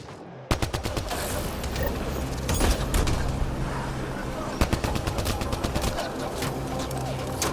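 Dense heavy gunfire from the video game Mass Effect Andromeda: rapid automatic bursts and sharp shots crackling almost continuously, loud and close, with a few louder bangs standing out.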